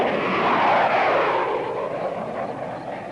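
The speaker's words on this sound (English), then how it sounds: "Hey, that's a plane taking off." An airplane takes off at a military airfield, a broad engine roar swelling quickly to a loud peak, then slowly fading as it pulls away into the distance.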